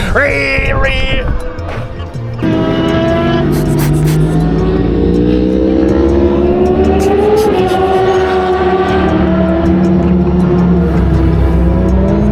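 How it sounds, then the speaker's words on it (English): Loud, dense roar of several race motorcycle engines revving hard and pulling away together from the start at Hampton Downs, their pitch climbing steadily as they accelerate. "You hear them all taking off."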